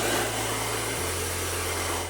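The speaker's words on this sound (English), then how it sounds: "You need to heat it up with a blow dryer." A blow dryer heats old golf grip tape with a steady, loud whirring roar; its hum shifts pitch slightly partway through and carries on unbroken to the end.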